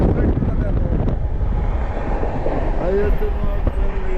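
The Mumbai–Howrah AC Duronto 12261 express runs at speed, heard from inside as a loud, steady rumble and wind rush with faint squeals from the wheels and track.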